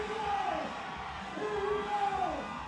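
A powerlifting crowd roars and cheers for Ray Williams before his squat attempt at a strength meet, with loud sustained yelling and rising whoops throughout, some voices shouting over the steady din.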